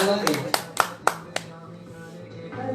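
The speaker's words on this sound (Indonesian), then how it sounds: "oke, tepuk tangan" Several people at a business seminar clap in a short, sparse burst of about six sharp hand claps, close and uneven, with a voice talking around them.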